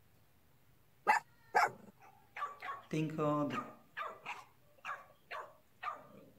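A dog in a car barking and yipping in short sharp bursts, two loud barks followed by a run of whiny yelps and barks mixed with people talking.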